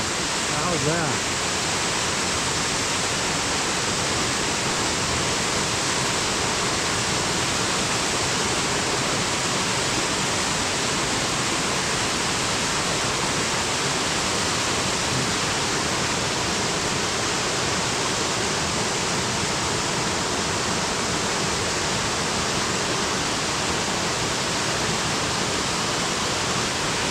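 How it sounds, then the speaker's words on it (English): Waterfall water pours out of a culvert in Olympic National Forest, a steady, loud broadband rush holding unbroken for the whole span with no pauses or changes. "Other side of the waterfall is coming out the culvert here."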